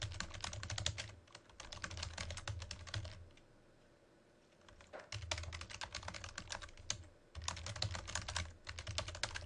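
Fingers type a tweet on a computer keyboard in quiet, close bursts of rapid key clicks, with a pause of a couple of seconds before typing resumes in steady runs.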